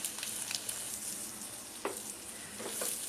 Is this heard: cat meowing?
no